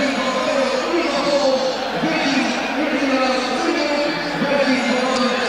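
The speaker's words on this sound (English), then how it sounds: "the Dutch regard this fanatical crowd here as virtually" A packed Dutch football stadium awaits the national anthems before a Netherlands vs England 1994 World Cup qualifier; a continuous roar of the fanatical home crowd rises and falls, with a commentator talking over it.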